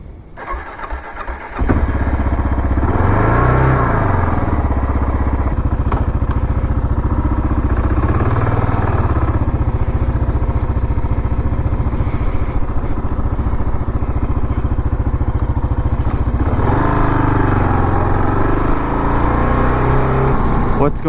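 A motorcycle engine starts up close by, then rumbles steadily throughout, swelling in a few throttle blips, with a voice talking over the running bike.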